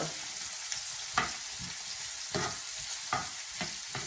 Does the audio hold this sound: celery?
yes